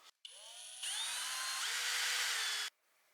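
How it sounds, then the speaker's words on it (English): A power drill running a step bit through metal, a steady high whining drone lasting about two seconds that rises in intensity midway, then stops abruptly, close and fairly loud, no talk. "This right here is a step bit."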